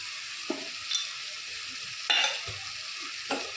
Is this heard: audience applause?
no